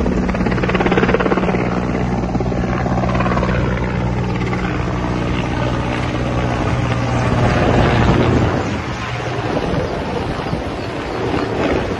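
A firefighting helicopter carrying a water bucket flies over a wildfire on Corfu, its loud, steady rotor roar and wind rumble filling the scene before easing slightly near the end.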